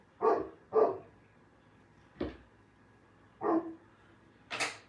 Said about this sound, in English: Do you hear my dog? That's the St. Bernard.